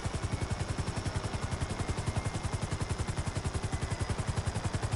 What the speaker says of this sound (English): You hear the plane?